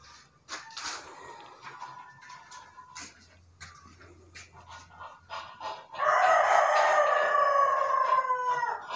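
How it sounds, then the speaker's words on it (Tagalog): A native chicken rooster crows loudly and close in a long drawn-out call near the end, after quieter clucks and rustling earlier. "Yun, yung ating native na manok."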